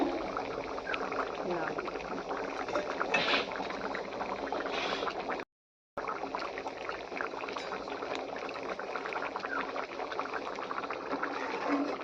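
Fried koi fish simmers in a gourd broth, giving a steady, even bubbling hiss that runs throughout, broken by a brief silent gap, while a person talks over it.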